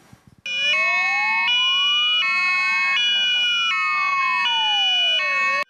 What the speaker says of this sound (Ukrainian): Рятувальники, швидка та поліція поспішають на місце аварії.